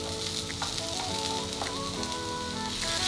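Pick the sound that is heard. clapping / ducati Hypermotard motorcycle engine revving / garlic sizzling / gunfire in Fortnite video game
garlic sizzling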